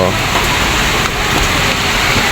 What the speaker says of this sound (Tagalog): so malakas talaga ang ulan dito